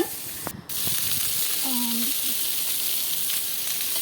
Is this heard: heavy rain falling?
no